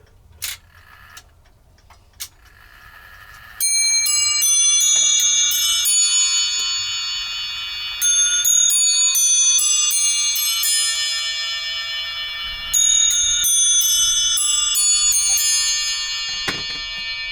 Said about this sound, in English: You're going to want to hear what the bells sound like.